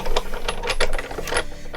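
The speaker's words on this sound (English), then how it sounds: "I'll just grab my Big Shot. This is a die cutting machine." A Big Shot die cutting machine cranks through with a rapid ratcheting, clicking mechanical whir, close and moderately loud, short and continuous without talk.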